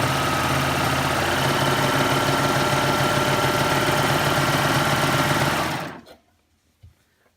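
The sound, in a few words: Baby Lock Ovation serger sewing machine stitching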